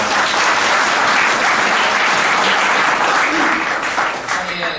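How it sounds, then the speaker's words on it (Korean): Sustained, loud applause from a conference audience welcoming a committee chairwoman to the stage at a Korean game-industry forum, dense steady clapping throughout that thins slightly near the end. "여명숙 위원장님을 박수로 환영해 주십시오"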